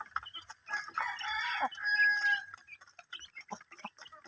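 Rhode Island Red chickens on a small poultry farm cluck and squawk close by, with one long drawn-out call in the middle and scattered short clucks around it, fairly quiet with no talking.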